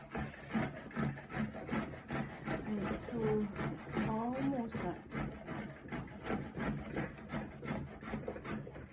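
Rhythmic rasping of turnip being grated by hand against a metal grater, steady repeated strokes close by, with a person talking over it partway through.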